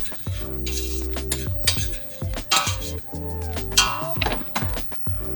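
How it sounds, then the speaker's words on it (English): Utensil stirring mushrooms and scallops in a pan, with repeated clinks and scrapes of metal against the cookware over a soft sizzle, close and fairly loud in irregular bursts. "Now I'm going to stir this real quick."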